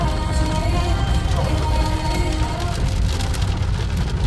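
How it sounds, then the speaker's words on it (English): Steady rain drumming on a car during a highway road trip approaching Lucknow, India, a dense broadband patter heard continuously from inside the vehicle over low road rumble. "it has started raining in Lucknow."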